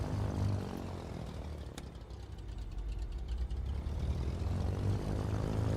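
Twin engines of a simulated Cessna 310R in a flight simulator game drone steadily as the throttles advance, a continuous, loud propeller roar that holds and slightly swells across the clip.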